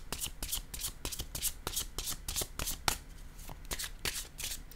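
Tarot cards being shuffled by hand, a rapid run of crisp riffling flicks and soft slaps repeating steadily throughout, close and alone.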